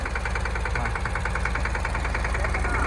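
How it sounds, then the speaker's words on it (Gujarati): A farm tractor engine running slowly in low gear, a steady, loud, close mechanical drone with a rapid regular knocking pulse throughout, alone without talk. "ટ્રેક્ટર શીખવાનું હોય ને એટલે આ રીતે પેલા લોમાં નાખ્યું એટલે ધીરે ધીરે હાલ્યું જાય"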